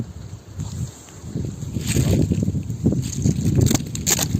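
Steady wind blowing and rustling through a maple forest, a low rumbling roar that builds and gusts over a few seconds with no voices.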